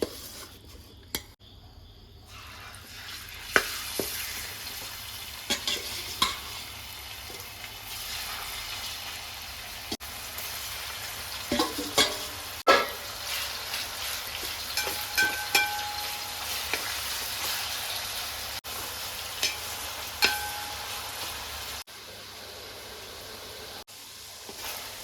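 Seer fish pieces frying in hot oil for a fish pickle, a continuous soft sizzle and bubbling with occasional clinks and stirring scrapes from a utensil.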